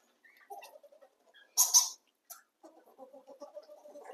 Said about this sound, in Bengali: এই দেখেন পাখিদের কিজিমিজি